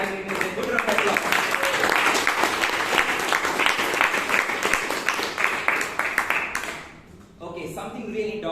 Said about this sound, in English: Let's give Toastmaster Vivek and all the evaluators a good round of applause.